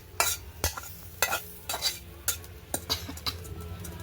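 Kalmi greens (water spinach) are stir-fried in a hot pan: a utensil scrapes and stirs in quick, irregular strokes over a low, steady sizzle, with faint clinks against the pan.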